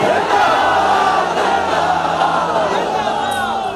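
A large crowd at a religious rally shouts slogans in unison, producing a loud, continuous roar of massed voices that holds strong from start to finish.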